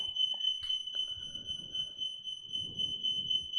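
A shrill smoke alarm tone holds steadily from start to finish, loud and unbroken, over some low background rumble and a couple of brief clicks.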